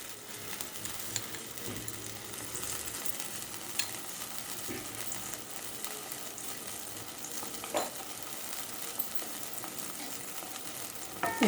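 Tamarind pulihora mixture with turmeric and salt sizzles steadily in a pan, a constant fine crackle with occasional scraping stirs and light clinks, moderately close and with no talking.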